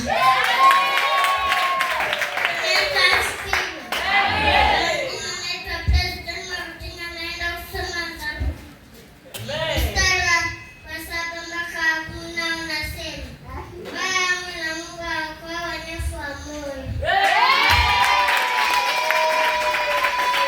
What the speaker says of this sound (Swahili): Jamani, ongeza makofi na vigelegele.